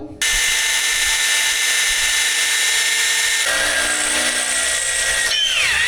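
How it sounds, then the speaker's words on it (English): A power drill whines steadily and loudly against a broken-off bolt in a 20-year-old Land Rover's bare frame, a sustained high-pitched motor drone that shifts pitch midway and winds down near the end. "we forgot to extract the broken off bolt"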